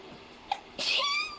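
A single person sneezes once, with a short intake of breath followed by a loud, close burst at a tabletop game session.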